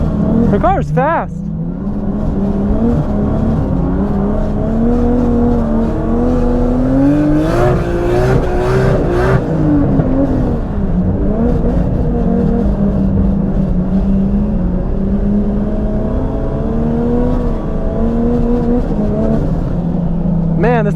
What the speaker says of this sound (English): Dude, it's the S15 with an RB, bro.